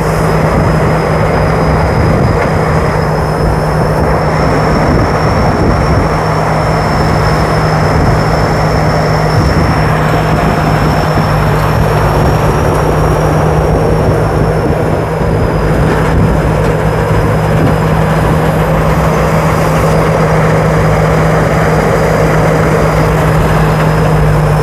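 A rice combine harvester with a large Hino GO 84 engine running in a paddy field at the start of the 2022 rice harvest: a loud, constant, close engine drone with a steady high whine above it, uninterrupted for the whole stretch.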